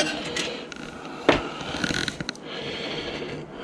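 Parts being unscrewed from an autoclave being scrapped, with ratcheting and metallic clicks, a sharp clunk, and scattered small mechanical rattles close by.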